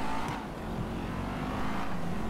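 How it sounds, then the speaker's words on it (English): A V8-engined car driving, a steady loud engine drone with a constant pitch for a couple of seconds and no voices. "it has an amazing V8 engine"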